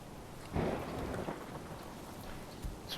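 Steady rain hisses throughout in the medieval city-builder game Manor Lords, a dense even wash with a few louder gusts or rumbles, no voices.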